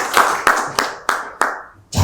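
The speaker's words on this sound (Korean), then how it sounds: "다시 한번 박수 한번 십자 박수 부탁드립니다" An audience claps in unison at a forum on ESG policy, five sharp, evenly spaced claps ringing through a hall, then a final burst that trails off, with no talking.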